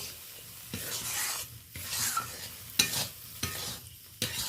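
Coconut paste being stirred into sautéed spices in a pan, with rhythmic scraping strokes about every second over a soft sizzle, close and clear, no voices.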